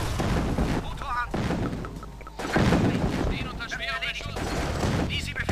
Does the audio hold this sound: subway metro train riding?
no